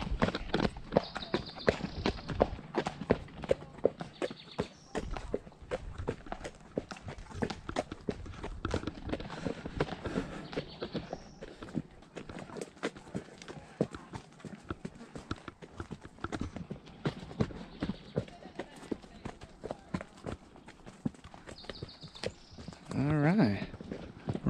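Hooves clip-clop at a steady walking rhythm during a horseback ride through the rock formations of Garden of the Gods, close and continuous beneath frequent nearby talking.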